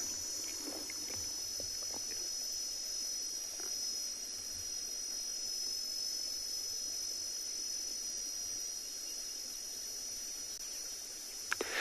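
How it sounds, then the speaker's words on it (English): Male cicada singing at sunset on a safari, a steady high-pitched buzzing trill running continuously at moderate loudness over a quiet outdoor background with faint scattered noises. "the cicada that you can hear in the background, that male is singing"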